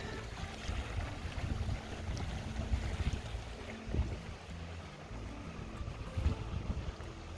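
Steady wind buffets a microphone at an exposed camping spot near a glacier, a continuous low roar with gusts rising and falling throughout, no speech.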